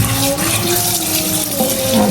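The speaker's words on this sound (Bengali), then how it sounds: "এদিকে আম্মু আবার ভালো করে ইলিশটা ধুয়ে নিতেছে" Water runs steadily from a tap as a hilsa fish is washed thoroughly in a home kitchen, a continuous close splashing flow with no pauses.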